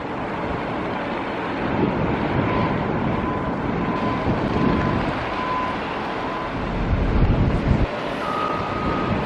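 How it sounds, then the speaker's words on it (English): Concrete trucks reversing at a stadium construction site give off intermittent backup beeps, heard at a distance through steady wind buffeting and low truck rumble. "See the concrete trucks waiting to back in there."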